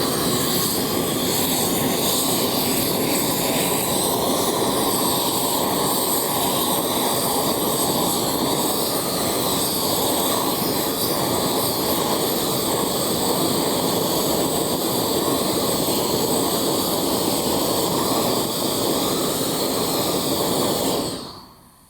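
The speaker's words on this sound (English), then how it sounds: "You squeeze this here for your turbo." A Uniflasy propane weed-burning torch roars steadily and loudly with its turbo trigger squeezed, a continuous close blast that holds for about twenty seconds before cutting off abruptly.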